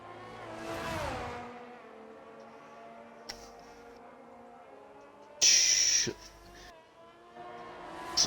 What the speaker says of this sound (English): as Panic comes now into the final chicane